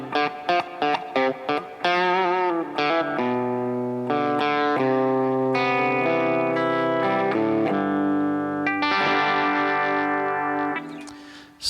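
A Fender Telecaster Ultra electric guitar is played through reverb, with quick plucked notes giving way to sustained ringing chords and melodic lines that bloom and decay, loud and close with no talking.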